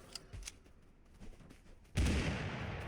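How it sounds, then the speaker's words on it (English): A blunderbuss fires in the battle royale game Totally Accurate Battlegrounds: faint scattered footsteps and shuffling, then one loud, sharp gunshot that rings out with a long roaring tail. "And oh, that's a blunderbuss."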